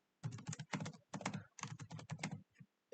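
Fast typing of code on a computer keyboard, dense bursts of quick key clicks in several rapid runs separated by brief pauses, close and clear, with no voices.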